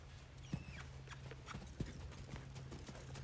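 Hooves of a horse clip-clop at a slow, uneven pace as it is backed up, with a few distinct sharper strikes over a steady low hum, fairly faint and with no talking.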